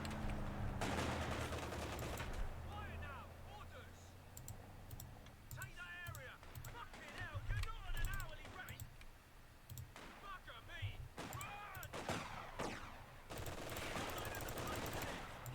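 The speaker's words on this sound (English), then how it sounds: "Hit by a machine gun" Machine gun fire in the video game Company of Heroes 2 crackles in rapid bursts amid clicks and battle noise, moderately loud, with someone talking over it at times.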